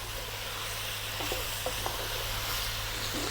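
Eggplant sizzles gently as it goes into a pot of winter vegetable stew, a soft steady crackle with a few sharper pops over a constant low hum.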